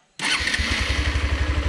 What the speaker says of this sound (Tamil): இன்ஜின் ஆன் ஆயிடுது.